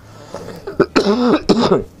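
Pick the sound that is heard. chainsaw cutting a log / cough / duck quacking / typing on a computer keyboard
cough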